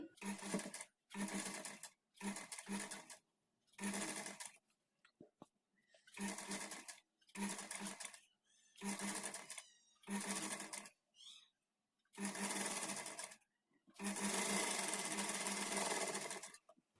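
A sewing machine stitching blouse sleeves runs in repeated bursts of whirring, stopping and starting every second or so, with one longer continuous run near the end; the machine is close and dominant.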